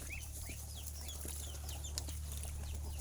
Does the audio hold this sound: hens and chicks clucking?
yes